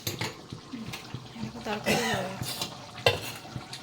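Hot curry bubbles in a pan in a home kitchen. Uneven close bubbling and spitting mixes with pot clatter and a few sharp knocks, and a faint voice may sit in the background.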